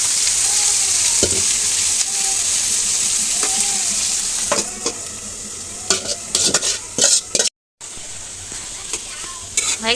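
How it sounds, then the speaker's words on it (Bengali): Minced beef fries with green chillies in a pan, sizzling loudly and steadily while a utensil scrapes and stirs in irregular strokes, with a brief cut near the end. "মাংসটা এখন এটার মধ্যে ভাজা ভাজা করা হবে।"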